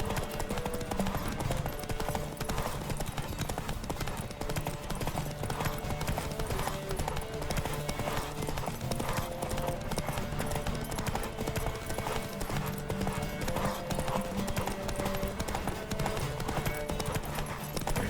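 Rapid hoofbeats pound continuously as a horse gallops in The Witcher 3, a dense, steady clip-clop rhythm with game music and occasional voices underneath.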